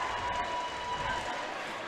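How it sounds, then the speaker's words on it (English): Crowd cheering and clapping at a youth girls' volleyball gold medal game in the Canada Games Centre, a steady, dense roar filling the hall with no breaks. "the crowd is getting wild here at the Canada Game Centre"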